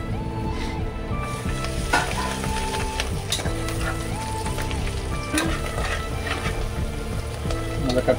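Mint and coriander leaves fry for biryani in a loud, continuous sizzle, with stirring scrapes and occasional clinks close by and no voices.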